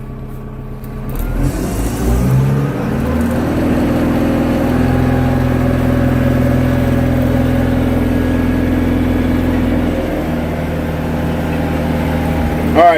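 A Kubota M7060 tractor engine runs in gear with a steady, loud diesel drone that swells briefly early on, then holds an even rumble for the rest of the stretch.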